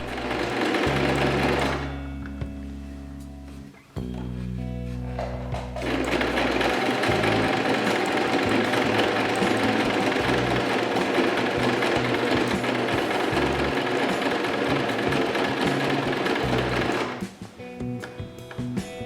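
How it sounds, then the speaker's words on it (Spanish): A sewing machine topstitches the strap of a pinafore blouse in long, steady bursts of rapid needle chatter, with short pauses between runs, close and without talking. "Quitamos el alfiler y pasamos el pespunte dejando el hueco cerrado."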